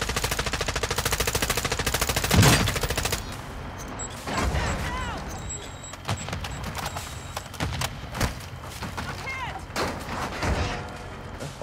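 Sniper and other gunfire in a DMZ video game match: rapid automatic bursts at first, then scattered sharp single shots and distant cracks, with voices talking over parts of it.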